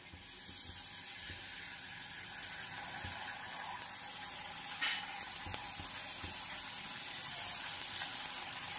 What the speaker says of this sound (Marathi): पुऱ्या तळून घ्यायच्या आहेत।